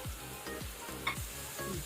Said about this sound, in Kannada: ಅದಕ್ಕೆ ನಾವು ಒಣ ದ್ರಾಕ್ಷಿ ಹಾಕೊಳ್ಳೋಣ. ಅದನ್ನು ಸ್ವಲ್ಪ ಫ್ರೈ ಮಾಡ್ಕೊಳ್ಳುವ.